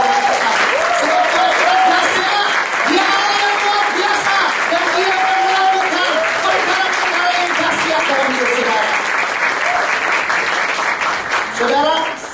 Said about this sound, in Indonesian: Mari kita bangkit berdiri dan kita beri tepuk tangan yang terbaik buat Tuhan.